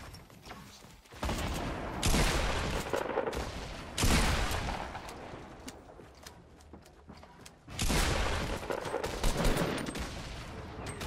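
Rapid gunfire in the Fortnite video game comes in three dense, loud bursts of overlapping shots, each followed by a brief lull.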